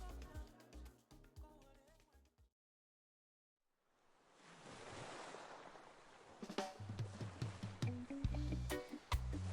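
Ocean surf on a coast with modern beach homes swells up as a broad wash of waves after a short silence, mixed with music and rising in level toward the end.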